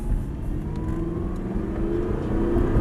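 A car engine pulls away and builds revs during a driving lesson, a steady close mid-pitched hum rising gradually, with no talk over it.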